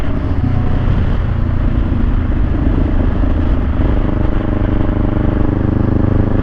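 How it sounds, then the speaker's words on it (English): Motorcycle engine braking on the road at around 30 mph, a loud continuous low engine drone mixed with heavy wind rush, steady throughout with no talk. "I'm going to try to do a little bit of engine braking right now."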